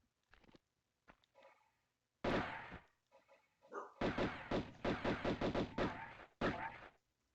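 Gunfire in the Tomb Raider video game: a few faint early pops, then louder separate shots and a quick run of rapid bursts, with silent gaps between them.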